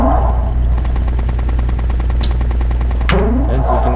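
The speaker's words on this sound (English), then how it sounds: "As you can hear the cannon." Cannon fire in a video game hazard mode with rocks, cannons and pits, a loud, rapid repeated burst of gunfire-like blasts over a constant low rumble, with a sharp crack near the end.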